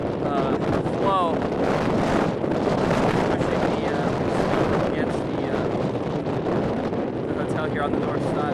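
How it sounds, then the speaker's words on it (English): Blizzard wind roars across a hotel building, a loud, continuous rushing gust with heavy buffeting on the microphone throughout, steady and close, with no clear voices above it. "The winds are from the north. The wind's going across the building must create some kind of"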